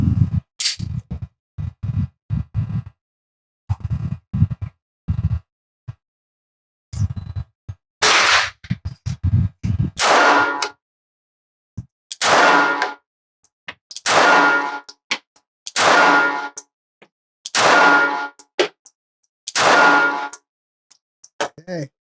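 A Glock G42 pistol firing Fiocchi ammunition at targets: after a stretch of quieter knocks and handling, about eight sharp, loud reports ring out one at a time, roughly every second and a half.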